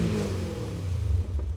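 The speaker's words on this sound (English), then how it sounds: "fitted with what I believe are Eisenman headers and a valved Meisterschaft exhaust system, and it sounds absolutely positively intoxicating" An E39 BMW M5 fitted with Eisenman headers and a valved Meisterschaft exhaust, valves closed, revs up close by with a deep, steady engine roar that holds and swells throughout.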